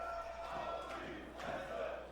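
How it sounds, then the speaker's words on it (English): A wrestling crowd at a Westside Xtreme Wrestling show in Germany roars steadily, with dense cheering and shouts that swell slightly near the end, loud and continuous with no break. "This crowd is crazy."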